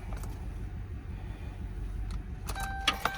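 A car engine idling after a repair, a low steady hum heard close up, with jingling keys and a few metallic clinks near the end.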